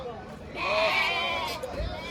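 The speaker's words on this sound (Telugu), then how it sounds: "ఎక్కువ సూటు గొర్రెలే వచ్చాయి అనమాట ఈ మార్కెట్లో." Sheep bleat at a busy livestock market at Pileru, one drawn-out nasal call rising over background crowd noise and a low thump, moderately close.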